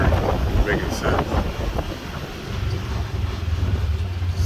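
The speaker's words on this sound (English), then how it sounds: "it's so windy out here" Strong wind blowing outdoors across an open yard beside a basketball court, a loud, continuous low rumble buffeting the microphone for the whole stretch.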